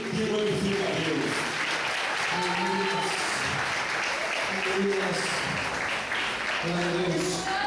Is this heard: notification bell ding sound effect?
no